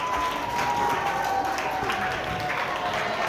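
A church book-talk audience applauds a correct answer, dense steady clapping filling the room throughout with a faint sustained tone underneath and some crowd murmur.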